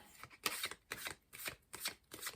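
A thinner tarot card deck being riffled, in four or five quick papery bursts separated by brief pauses, close and fairly quiet with no talking.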